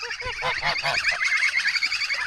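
Guinea fowl calling nearby, a rapid run of harsh, repeated squawking notes, loud and close with no talking.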